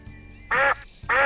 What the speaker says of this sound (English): 3 ducks. Quack, quack, quack.